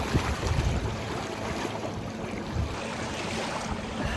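A motorized kayak crosses Lake Berryessa toward the east shoreline, giving a steady, close wash of engine drone, water rush and wind buffeting the microphone, with no pauses.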